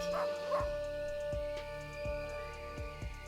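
Dog in the Maid of Sker video game giving a few whimpering yips, then a run of regular barks about half a second apart over a low steady hum.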